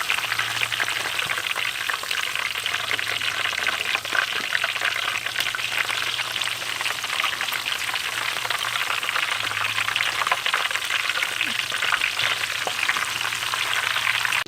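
Noodles deep-frying in a pan of hot oil until crispy, a steady dense sizzle and crackle that runs continuously and loudly throughout, with a faint low hum underneath and no talk.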